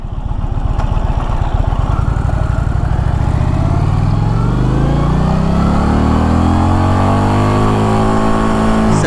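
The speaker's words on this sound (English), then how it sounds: "Third gear and I'm already nearing 150" 2024 Indian Challenger Dark Horse motorcycle accelerating hard in third gear on a highway, its engine note climbing steadily in pitch, loud and close with wind rush.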